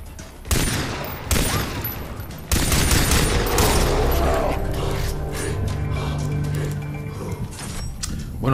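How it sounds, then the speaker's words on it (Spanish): Bursts of gunfire in the video game Far Cry 3, with loud rapid volleys that begin abruptly and keep crackling over a dense, busy battle backdrop. "Fijaos los balazos, cómo se le notan"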